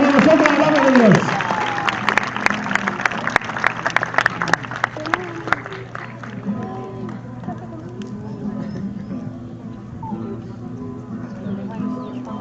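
A loud burst of clapping and cheering from a crowd gathered around a campfire at an altar servers' camp, strongest at the start, then thinning into scattered claps and crowd murmur.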